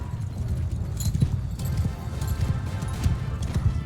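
Horse hooves in the video game Mount and Blade II Bannerlord clop in a steady galloping rhythm, close and moderately loud, over a low rumbling background.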